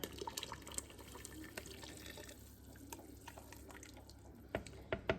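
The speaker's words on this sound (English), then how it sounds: "So I'm gonna go ahead and add it into the stock pot now" Strained pozole rojo sauce solids are scraped and poured into a stock pot, giving soft wet splashes and drips over a steady low background, with a few sharper clinks near the end.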